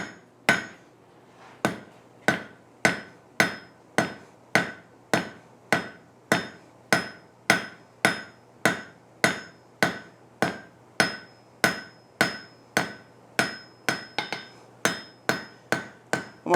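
A hammer strikes hot steel on an anvil while a taper is forged, about twenty-five ringing blows at a steady, fairly quick rhythm, loud and close, with each metallic clang decaying briefly before the next.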